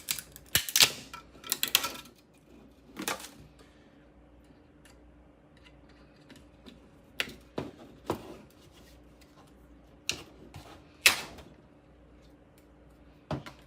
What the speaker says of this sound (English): So now it's time to remove the supports.